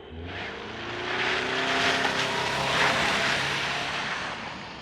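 A 2025 Toyota Sienna hybrid minivan with a 2.5-liter four-cylinder drives through snow, giving a steady broadband roar of tires and engine that swells and eases over a few seconds, with no talking.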